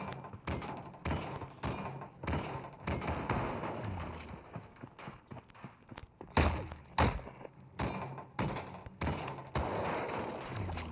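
Gunfire in a power rifle video game, a quick run of sharp shots and bursts, some loud and close and others fainter, spaced irregularly across the stretch.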